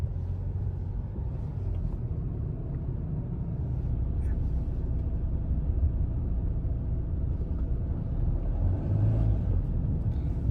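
Continuous low engine rumble and tyre noise from a Mahindra XUV700 SUV driving on a road, steady throughout.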